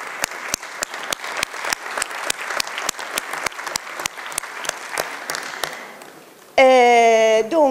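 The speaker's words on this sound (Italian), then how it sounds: "Un applauso a tutti voi" Applause fills a packed hall at an Italian emotions festival evening, brisk clapping with sharp individual claps over a dense bed, fading before a sudden loud tonal musical sound takes over at the end.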